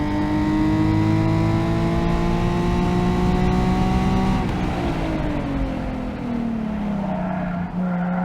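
Modified Nissan 370Z on a race track, engine revving hard and climbing through the gears before the pitch drops sharply as the car slows, loud and close from onboard with a faint tire squeal.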